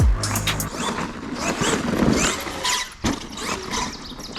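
Drivetrain noise from a Redcat Racing Vigilante RC car, with a suspected fault in the center differential sun gears: a continuous mechanical grinding and whirring, loud and close, with a brief dip near the end and no talking.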